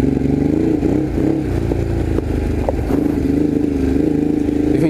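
A Ducati Hypermotard 939 motorcycle rides over soft dirt off-road, its engine a loud, close, steady drone with slight rises in pitch, mixed with rattling and scraping from the rough ground.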